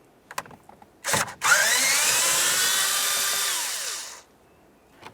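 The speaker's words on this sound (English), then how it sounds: "Let's move underneath the steering column and remove this one 7mm headed bolt." A power driver spins out a 7mm-headed bolt beneath the steering column of a 2005-2010 Chevrolet Cobalt: a few light clicks, then a close, loud, steady whirring run of about three seconds that winds down.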